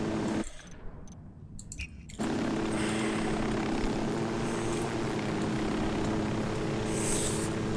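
Helicopter in the Ghost Recon video game, its engine and rotor drone rising to a steady, loud whir after a brief muffled opening and holding alone while it searches for a flat spot to land.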